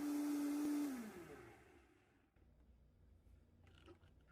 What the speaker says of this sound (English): the blender that I'm using today is a Vitamix and it purees very well